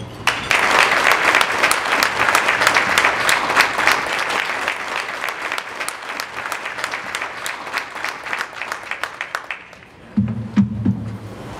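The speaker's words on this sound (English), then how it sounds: "how about another round of applause for Jason, Stacy, their staff" A dinner crowd at a foundation event applauds, dense sustained clapping from many hands that thins after about ten seconds and then gives way to a voice.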